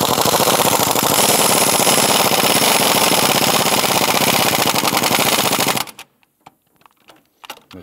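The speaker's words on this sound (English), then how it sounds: "Let's tighten down the lower vertical bolt." A power tool drives the lower vertical bolt of an engine torque strut mount on a 2005–2007 Ford Five Hundred with a loud, rapid hammering rattle for several seconds. It then stops abruptly, leaving a few faint clanks.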